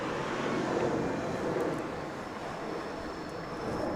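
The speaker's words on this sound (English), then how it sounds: "A bit of noise here with the planes going overhead" Steady broadband rumble of airplanes flying overhead at a croquet championship, a continuous distant drone filling the whole stretch without speech.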